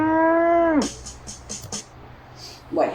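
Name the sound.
cow mooing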